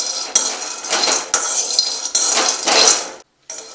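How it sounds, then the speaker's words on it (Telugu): Peanuts being dry-roasted in a pan on a stove, giving repeated loud clattering and scraping bursts as the nuts are tossed and stirred, with one brief pause near the end and no speech. "ఇప్పుడు వీటిని దోరగా ఫ్రై చేసుకోవాలి."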